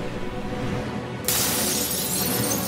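Glass window shattering, a sudden loud crash that breaks into a bright, sustained spray of falling shards after a quiet lead-in.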